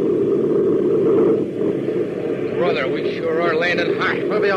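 A vintage radio drama sound effect of a propeller airplane landing, heard as a steady, loud engine drone and rumble that runs through the whole clip beneath voices.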